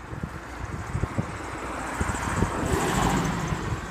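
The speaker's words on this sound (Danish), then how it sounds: "Der er sgu biler." Cars pass along a road, a rising broad whoosh of tyre and engine noise building toward the end, mixed with wind buffeting the microphone and scattered low thumps.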